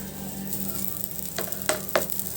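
Dosa batter sizzles on a hot pan in an Indian masala dosa kitchen, a steady close frying hiss with a few sharp scraping accents near the end and no talking.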